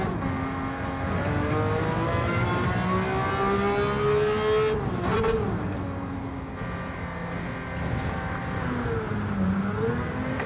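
A sit-up-and-beg style roadster in Gran Turismo 7 drones loudly and continuously throughout, its engine note rising and falling as it accelerates and shifts, with a brief dip and swoop midway during a lobby race.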